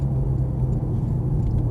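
Continuous low engine rumble of a Porsche 911 GT3 (991) on a Las Vegas race track, with another car approaching from behind to pass, steady and loud throughout.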